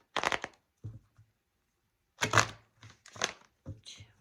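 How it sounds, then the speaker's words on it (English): Tarot deck being shuffled by hand in short bursts of papery riffling and card slaps, a few separate rounds with quiet pauses between, close and fairly soft. "So this is more shuffling for Virgo for your Celtic Cross reading."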